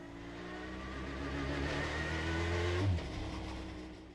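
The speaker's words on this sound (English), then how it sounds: "is this a race car? Or a rally car?" Race car engine in the video game Gran Turismo 5, a steady loud drone that swells and rises in pitch as it accelerates, then drops back abruptly near the end.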